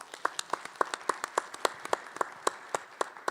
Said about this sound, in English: please give another round of applause to Robin and the virtual events group.